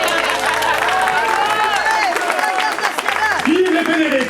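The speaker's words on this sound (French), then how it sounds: "Levez-vous, camarades, qu'on vous applaudisse." A crowd at a Paris Commune 150th-anniversary gathering claps and cheers for the comrades standing up, steady applause mixed with loud shouting voices and babble throughout.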